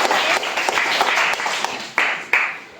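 Applause for a child contestant at a primary school quiz program, a burst of clapping from a small crowd with a few sharper claps standing out near the end.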